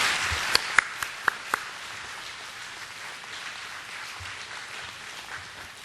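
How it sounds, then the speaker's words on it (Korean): Welcoming applause from a church congregation greeting a missionary returning from India, a few sharp claps up front settling into a soft, diffuse patter of clapping that carries on quietly throughout. "뜨겁게 우리 박수로 환영하겠습니다"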